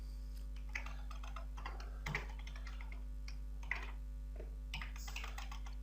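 Steady keyboard typing in irregular bursts of close, crisp key clicks over a constant low mains hum, with no voices.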